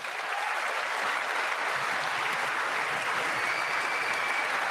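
Steady applause from a large audience at the State of the Union address, a dense, even wash of clapping held for several seconds with no voices over it.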